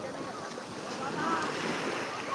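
Rough sea surf washing steadily and loudly close by, mixed with wind buffeting the microphone, a continuous churning roar with no clear breaks.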